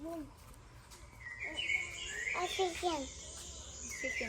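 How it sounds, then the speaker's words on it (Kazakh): Several birds chirp and trill in a lively mix over a steady insect buzz at a banana garden in Shymkent, with faint voices now and then. "Құстардың дауысы күшті шығып тұр ма?"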